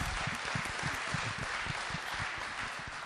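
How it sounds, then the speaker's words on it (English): A church congregation claps together in a steady, fairly quiet burst of applause, the individual hand strikes blurring into an even patter with no voices over it. "And we clap for Nick too"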